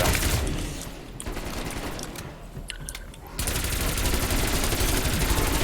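Pack-a-punch upgraded guns firing in a zombies game mode, with dense rapid automatic bursts that ease briefly and then return in a sustained, loud barrage.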